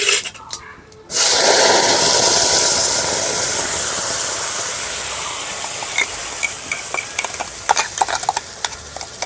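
Tomato paste dropped into a hot pan with black mustard seeds and curry leaves bursts into a sudden, loud, close sizzle. The sizzle holds as a steady hiss, with scattered crackles and stirring clicks toward the end.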